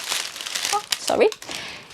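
Tracing paper is crinkled and handled up close in a crisp, rustling burst lasting about two seconds, with a voice speaking over it.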